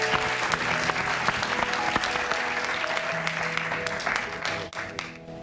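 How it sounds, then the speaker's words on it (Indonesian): Steady applause from a studio audience on a talk show welcoming a guest, dense and continuous before tapering off near the end. "beri tepuk tangan untuk Bapak Hari Manampiring"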